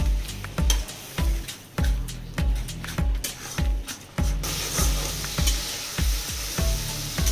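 Shrimp sautéing with dried chilli and turmeric powder in a pan, with a loud, close sizzle and a rapid, regular run of spatula strokes knocking and scraping against the pan.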